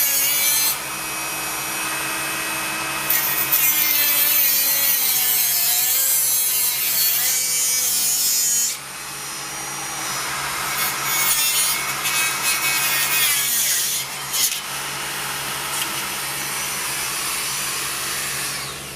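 A Dremel rotary tool at speed 8 grinds and cuts into a Nissan 240SX KA intake manifold, a loud shrill whine wavering in pitch as it bites, with a short pause partway before grinding continues.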